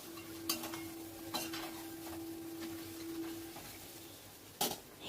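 Mutton for biryani is stirred in a pot over a medium-low flame, with several clinks and scrapes of a utensil against metal over a quiet low sizzle and a faint steady hum, and no voices.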